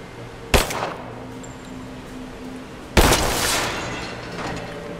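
Two gunshots ring out in the Rise of the Tomb Raider video game, sharp loud cracks a few seconds apart, each trailing into a short echoing decay over a low ambient hum.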